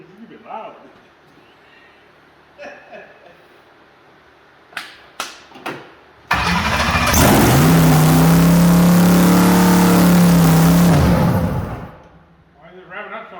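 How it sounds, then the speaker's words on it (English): A supercharged third-generation Chevrolet Camaro engine with a blower surges to a loud, sustained high rev for several seconds on its first fire, after a few sharp knocks and brief talk, then drops back toward idle. "Why is it revving up so high?"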